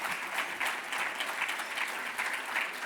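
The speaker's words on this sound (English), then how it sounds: "How about a round of applause for our CEO?" Broad, steady applause from an audience honoring a CEO at a Broadcast Pioneers of Philadelphia Hall of Fame event, a dense wash of many hands heard at a moderate distance.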